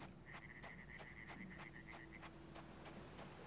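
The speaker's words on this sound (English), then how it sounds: "Some ocean frogs," Ocean frogs croak in a rapid, evenly spaced series of about a dozen short calls in a Dragon Quest Treasures island scene, clear and alone over a steady low ambient hum.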